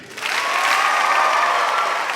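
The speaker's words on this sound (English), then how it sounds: "send them off with a round of applause as I call their name" A graduation ceremony crowd at Marshfield High School applauds, a dense, steady wash of many hands clapping that swells in after a brief quieter start and holds evenly, loud and close, with no talk over it.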